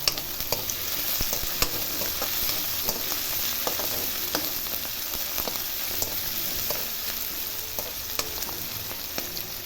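Two dried red chillies with coriander and curry leaves frying in a pan for oats upma, a steady close sizzle and crackle with scattered sharp pops and occasional stirring clinks, no talking.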